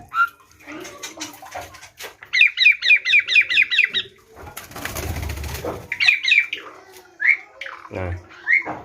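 Starlings by a clear koi pond give bright, rapid chirps in a rhythmic burst of about eight notes, then scattered calls, with a loud whoosh of wing flaps or splashing in the middle.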